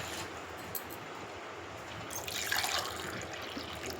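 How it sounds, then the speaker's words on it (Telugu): Water poured from glasses into a pot on a stove while making ragi porridge, a steady broadband splashing pour that swells louder toward the end, heard alone without talk. "నేను ఇప్పుడు స్టవ్ ఆన్ చేసి నేను ఒక 3 గ్లాసెస్ వాటర్ పోస్తున్నానండి."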